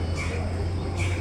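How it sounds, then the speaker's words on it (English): Two distant crow caws in an early-morning park, one early and one near the end, over a steady low background hum. "You can hear the crows in the background."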